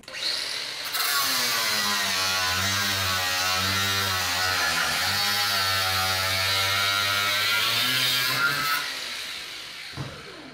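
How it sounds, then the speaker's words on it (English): A small Makita angle grinder cuts through a steel bolt, a loud high whine that starts abruptly, holds steady for about eight seconds with pitch dipping under load, then winds down. "Little Makita angle grinder. I'm going to shorten this bolt."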